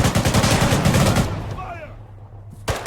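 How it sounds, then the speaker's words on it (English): Rapid bursts of enemy gunfire in Arma 3 crackle loudly for the first second and a half, then fade into a quieter tail with a brief whistle, and a sharp shot returns near the end. "Enemy fire."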